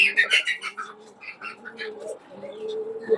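Pigeons cooing in a rooftop aviary, soft repeated coos mixed with chirps from other exotic birds, moderately close and fairly quiet.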